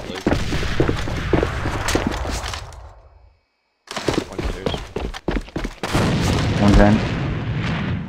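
Grenade explosion in the shooter game AVA: loud, close blasts and crackling bangs cut off into a second of silence, then further sharp bursts return amid battle noise, with a brief voice.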